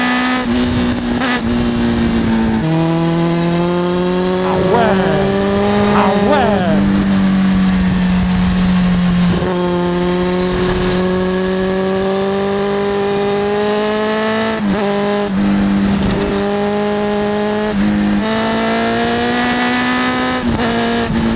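A Kawasaki ZX10R motorcycle engine revs loudly and close, its pitch climbing and falling across repeated gear changes, with a strained high-rev whine, over a long continuous run with no pauses.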